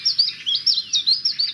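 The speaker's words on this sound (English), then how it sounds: "This is the call of the chiff chaff." A chiffchaff calls in quick, repeated high chirps, about seven clear notes in an even rhythm, close and loud with no voices.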